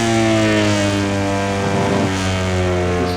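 A MotoGP motorcycle engine idling in the pits at the Catalunya circuit in a PS4 racing game, a loud, steady, droning tone with strong harmonics held throughout and no talk.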